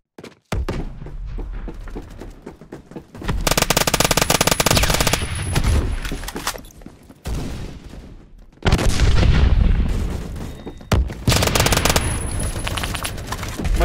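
Colt SMG 633 submachine gun firing in Phantom Forces: loud rapid automatic bursts of several seconds each, separated by short pauses, the firing stopping and restarting repeatedly.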